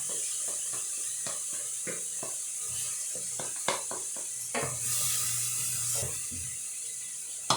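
Garlic and leek sizzling in a hot pan, a steady frying hiss with intermittent stirring scrapes and clinks of a utensil, close and moderately loud, no talking.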